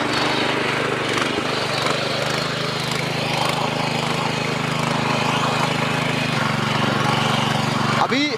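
An 8 hp Sraja power tiller engine running nearby, a loud steady rumbling drone with continuous mechanical chatter, with voices talking over it.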